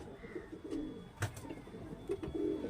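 Murshidabadi giribaz pigeons coo in low, rolling murmurs close by, with a brief louder burst midway and a steady soft backdrop of flock sounds.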